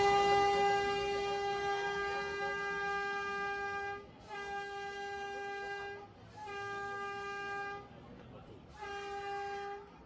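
An Alexandria tram on its street route sounds long, loud harmonic horn blasts in four separated bursts, each tone held for a second or two with brief gaps of rumbling running noise between them.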